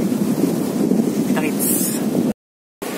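Strong surf rolls onto a beach at Cabangan, Zambales, making a dense, steady rush with wind buffeting the microphone. The sound cuts out for a moment near the end.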